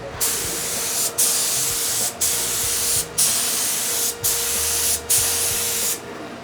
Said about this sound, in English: I want to spray this dye on really light because I don't want to put it on in one application.